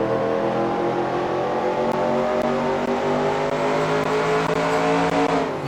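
Race car engine in a racing video game at sustained high throttle, a steady loud harmonic drone with slowly rising pitch and no voices over it.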